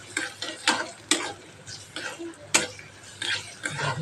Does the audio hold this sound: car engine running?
no